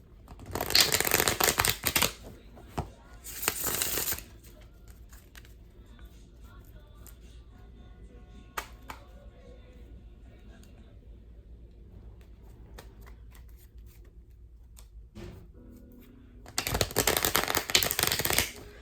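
Tarot cards shuffle in two quick bursts at the start and another near the end, close and crisp, with quiet handling sounds and faint rustling between them.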